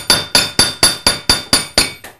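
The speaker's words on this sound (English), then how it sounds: "So I just hammer the metal." Eight sharp, evenly spaced hammer blows ring out on metal resting on an anvil made from a railroad tie, each a bright close clang decaying before the next, with no talking.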